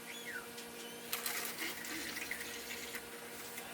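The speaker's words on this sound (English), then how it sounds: "you can try your luck and try pouring it in like this" Photographic chemical poured from a container back into a bottle at home, a faint continuous trickle and splash of liquid with no talking.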